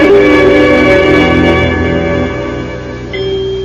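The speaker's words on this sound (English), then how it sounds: "It sounds like the bell in our tower" A church tower bell chimes with a rich, ringing tone, its strike decaying slowly before a fainter follow-up ring near the end.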